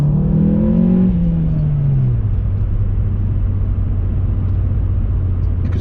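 Audi S1 engine pulls hard in second gear, a loud rising then falling growl from inside the cabin that settles into a steady low drone, with no talking.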